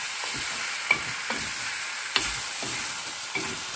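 A spatula stirs chicken and vegetable stir fry around a hot pan, with steady sizzling and a few sharp scrapes and knocks against the metal at irregular intervals, close and clear with no talking.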